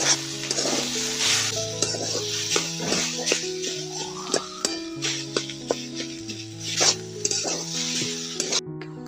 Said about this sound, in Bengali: আলুটাকে একটু ভেজে নিয়েছি